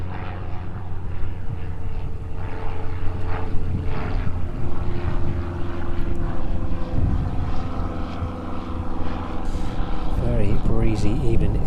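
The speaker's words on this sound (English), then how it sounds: "Cessna 152 from the flying school here." Cessna 152 propeller plane at East Midlands Airport, a steady mid-distance engine drone in gusty wind, with a voice talking over it.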